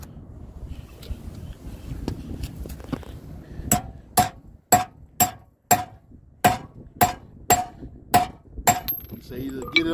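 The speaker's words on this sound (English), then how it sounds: "I'm gonna try hammer this bad boy on there." A ball peen hammer strikes a socket onto a stripped vehicle lug nut about a dozen times in a steady rhythm, sharp ringing clanks close by after some quieter handling sounds.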